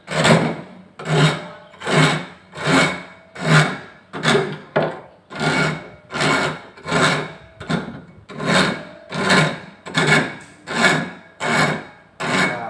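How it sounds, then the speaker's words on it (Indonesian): A coarse hand file is drawn across a steel plate in single one-direction strokes, giving about seventeen loud, close rasps in a steady rhythm of roughly one stroke every 0.7 seconds, with no voices. "Kita naikkan kikir kasar dengan satu arah, dengan guratan tunggal satu arah."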